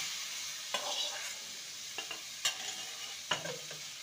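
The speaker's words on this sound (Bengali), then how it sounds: "মশলার সাথে কচু আলুকে ভালো করে নেড়ে নেব।" Taro root and potato being stirred into spice paste with prawns for a Bengali curry, with occasional scraping clinks of a spoon against the pan over a low steady sizzle, no talking.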